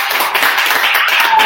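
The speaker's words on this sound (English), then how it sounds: "Let's give Shay a round of applause." Close, loud clapping from a small audience sounds continuous and fairly dense, with individual claps blurring into a short burst of applause.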